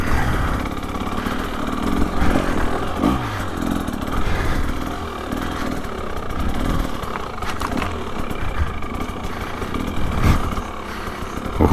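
A 2025 KTM 300XCW Champion Edition dirt bike on a spring trail ride, its engine droning and revving continuously, loud and close, with surges and dips in pitch throughout.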